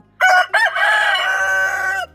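Rooster crowing among chickens kept for tiger poultry farming, a loud, close crow with a short opening burst and then a long sustained call lasting about two seconds, heard alone.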